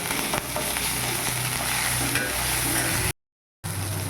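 Loud, continuous sizzling of ginger garlic paste frying in oil with tomato, with stirring noises, cut by a brief silence near the end.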